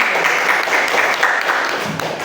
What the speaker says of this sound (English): Give applause to Monique